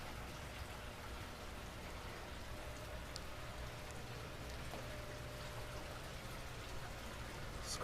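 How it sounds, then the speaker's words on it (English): Two waterfalls splash into an 800-gallon indoor pool pond, a steady faint wash of falling water with no voices. "Double waterfall, baby."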